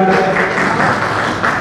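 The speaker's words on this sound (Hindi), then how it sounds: "हम आप लोगों से निवेदन करते हैं कि आप सभी जोरदार तालियों से स्वागत कीजिएगा" Crowd applause at a community felicitation event in Mumbai, a loud continuous wash of clapping filling the whole short moment.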